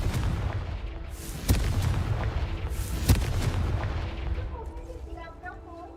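Two sharp, booming blasts from the Confringo fire spell in the Hogwarts Legacy video game, spaced a second and a half apart over a dense, roaring game soundscape, with a player's voice nearby.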